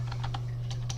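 Quick, light clicks of typing on a computer keyboard, close and fairly quiet over a steady low electrical hum.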